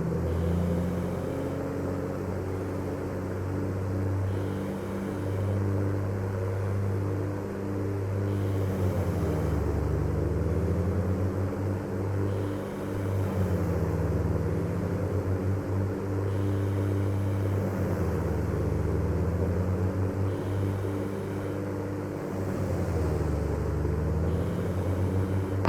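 Aircraft engines in Microsoft Flight Simulator 2024 running up to 2100 RPM give a steady droning hum with a gently wavering pitch that rises and falls in slow cycles, continuous and even throughout.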